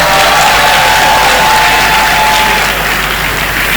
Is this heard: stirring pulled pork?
no